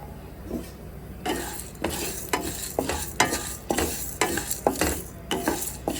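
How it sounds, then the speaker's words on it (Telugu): Green gram and urad dal dry-roasting in a pan, with a spoon scraping and stirring in quick rhythmic strokes over a faint crackle, close up and with no talking. "పచ్చనిపప్పు కొంచెం పచ్చివాసన పోయినంత వరకు బాగా కొంచెం వేయించుకున్న తర్వాత"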